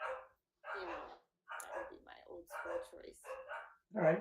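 Dogs bark in short bursts between stretches of conversation, the barks close and intermittent while a person keeps talking.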